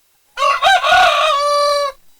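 A rooster crows once up close and loud, a single cock-a-doodle-doo call lasting about a second and a half against near silence, in a home village setting.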